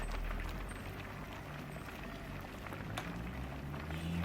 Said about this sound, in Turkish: Böyle biraz dengede kaynıyor.